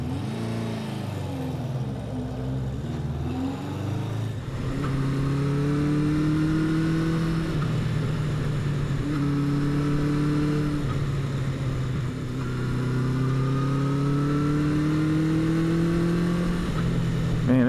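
Honda CB400 Four motorcycle engine, freshly rebuilt with a new exhaust, idling steadily after a quiet start, then held at a raised fast idle with gentle revs rising and falling, loud and close with no talk.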